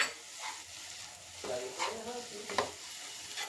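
Potato fry being stirred in a pan with drumstick leaf powder, a steady sizzle under repeated scraping strokes of a spoon against the pan, close and moderately loud.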